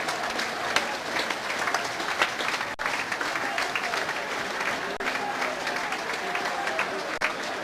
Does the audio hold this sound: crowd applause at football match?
yes